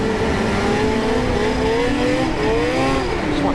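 A 2025 Arctic Cat ZR 858 Catalyst snowmobile engine accelerates, its whining tone climbing in pitch in repeated surges. The loud, raspy two-stroke roar carries steadily throughout, with no talking.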